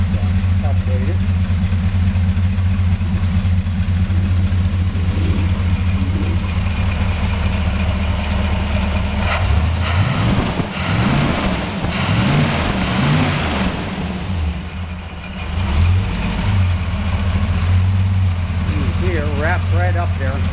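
A 354 Hemi Chrysler V8 fitted with a 318/340 distributor and a 340 oil pump idles with a steady, deep rumble, then blips through a couple of revs midway before settling back to a smooth idle, with someone talking nearby.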